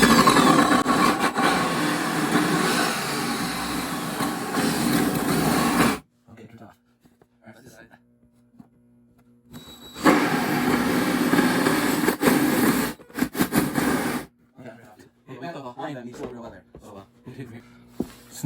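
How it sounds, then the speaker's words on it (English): A hand-held power drill whirs into a hollow core door in two loud bursts separated by quiet pauses, with faint handling noises between. "So I think I can do this with the hand drill."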